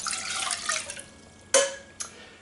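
Water splashes and trickles as a cup and a half is poured into a saucepan for venison jerky marinade, followed by a couple of sharp clanks of the pan being handled.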